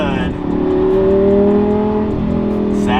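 A Lamborghini engine hums and revs while driving, the tone climbing and holding steady, with a voice speaking over it.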